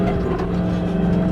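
Monster truck engine during a ride, a loud, close, steady low rumble with a droning tone, brief and unbroken.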